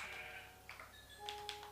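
Sheep in the Minecraft video game bleat in short tonal calls, a few quiet, overlapping bleats with synthetic pitch heard one after another over a faint background, with no talk.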